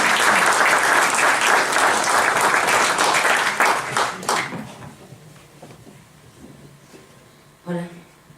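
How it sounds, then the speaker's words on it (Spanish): Loud applause from an audience at a gathering of Ecuadorian assembly candidates in Stockholm, dense clapping that fades out over several seconds before a few faint sounds and a brief voice. "pido un fuerte aplauso para ella"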